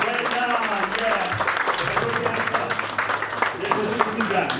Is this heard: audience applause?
yes